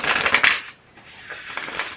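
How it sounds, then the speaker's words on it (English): A deck of cards shuffled by hand, starting with a close, loud riffling burst and followed by softer bridging and riffle sounds, with no voice. "I'm gonna shuffle them like this, because I like the sound and I like the feel of the shuffle on my hands"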